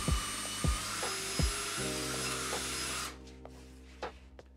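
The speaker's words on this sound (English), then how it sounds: "So I powered it using just a cordless drill, which has a top speed of about 1800 RPM." A cordless drill, top speed about 1800 RPM, spins a 3D printed harmonic drive gearbox: a few sharp clicks and bumps, then a steady whirring mechanical drone that cuts off abruptly, leaving quiet with faint ticks.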